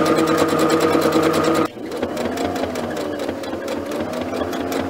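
A sewing machine stitches fabric, first back stitching and then sewing forward, a loud, steady mechanical whir up close that changes pitch as the stitching switches direction.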